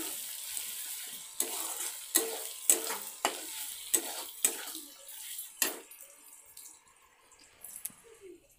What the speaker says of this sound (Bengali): এবারে বেশ কিছুক্ষণ নাড়াচাড়া করব, ওগুলো মশলাটা ভাজা হয়ে গেলে